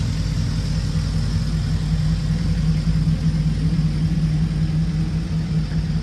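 A 1949 Chevrolet 3100 pickup truck fitted with an LS V8 engine runs at a steady idle, a loud, close, even rumble with no talking over it.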